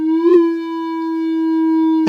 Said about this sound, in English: This module looks really crazy, but it's simple. It just makes a pitch.